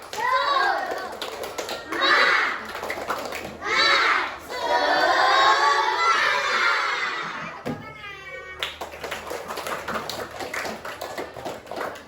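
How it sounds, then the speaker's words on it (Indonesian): A classroom of children performs a rhythmic spirit clap, with bursts of chanting voices and tapping claps in time, loud and close, followed by a sustained group shout and then mixed chatter. "Kita mulai tepuk semangat kita dulu."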